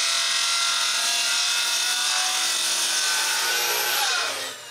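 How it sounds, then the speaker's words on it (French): A loud, continuous whine of a track saw cutting wooden boards, holding steady then dropping off as the blade finishes the cut. "ma scie sur rail pour couper tous les côtés de toutes les planches bien droit"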